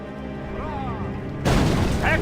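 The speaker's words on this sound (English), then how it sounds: "another mortar" Mortar firing in the medieval strategy game Medieval II: Total War with the Stainless Steel mod, a sudden loud boom that bursts in after quiet battlefield ambience, following talk.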